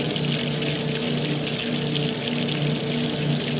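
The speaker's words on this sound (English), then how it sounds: "That's your warm rinse right there." Warm rinse water rushing into a washing machine at strong pressure, a loud, dense, unbroken gush of flowing water that runs steadily throughout.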